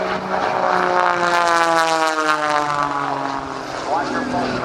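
Patty Wagstaff's aerobatic propeller plane dives out of knife-edge flight at an airshow, its engine roaring loud and close with a steady, sliding pitch as it passes overhead.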